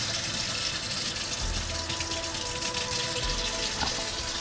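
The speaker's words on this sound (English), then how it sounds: "the water is so clean and clear. It comes right out of the mountain." Cold, clean mountain water from an off-grid supply runs steadily from a tap, a continuous broadband rush with no one speaking.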